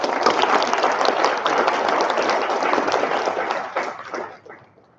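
A graduation brunch audience breaks into a round of applause, a loud, full burst of many hands clapping that stays strong for about four seconds before tapering off and fading out.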